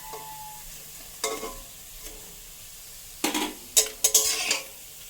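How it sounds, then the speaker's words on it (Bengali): Fried bora fritters lifted from hot oil with a metal utensil: a quiet background sizzle broken by several sharp clinks and scrapes against the pan, clustered near the end, with no talking. "আমার বড়া ভাজা হয়ে গেছে, আমি বড়াগুলো এখন তুলে নেব।"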